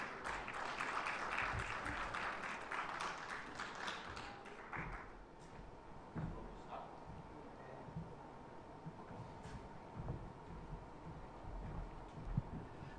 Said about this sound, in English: with a thunderous round of applause, please welcome Mr. Sawhney and Mr. Dwivedi